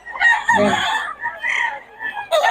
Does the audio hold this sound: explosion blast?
no